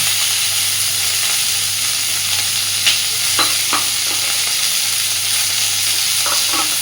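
Bhola fish and potatoes, with green chili, tomato and garlic, fry in a pan under a steady close sizzle, broken by a few sharp spatula scrapes and knocks of stirring; no voices.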